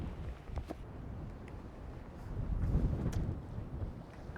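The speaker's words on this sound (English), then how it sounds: "I'm gonna go hide from the wind for a bit." Cold wind blowing across the microphone at a sunrise shore on Bull Island, a low rough buffeting rumble that swells midway, with no speech.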